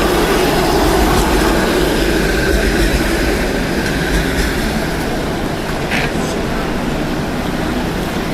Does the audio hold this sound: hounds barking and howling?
no